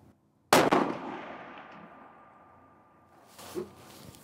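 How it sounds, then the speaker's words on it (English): Single rifle shot fired at a 300-yard target: one sharp loud crack after a brief quiet, with a long decaying outdoor echo and a fainter distant impact or report about three seconds later. "So we're dialed up to 300 yards."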